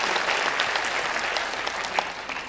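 Audience applause at a musical worship service marking 100 days since a musician's passing, steady dense clapping at even loudness throughout, with no voices over it.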